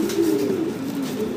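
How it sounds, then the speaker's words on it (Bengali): Imported fancy pigeons, a large male and female, coo steadily and close by in a low, rounded warble with no other sound. "দেখেন নর এবং মাদি ভয় পাইতেছে কবুতরগুলো।"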